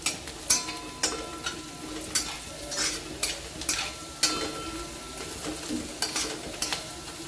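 A spoon stirs turmeric into sizzling fried green chilies in a pan for tomato chutney, scraping in rhythmic strokes roughly every half second over a soft, continuous frying hiss, close and fairly quiet.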